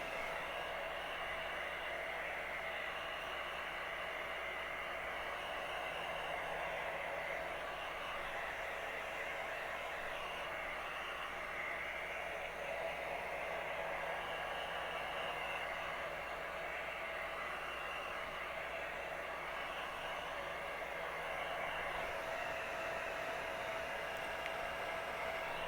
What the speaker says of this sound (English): I'm using an old hair dryer that actually belonged to my grandmother